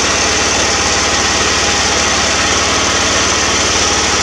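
A homemade engine generator runs continuously at a steady, loud, fast-pulsing drone with a buzzy light-engine character and no change in pace.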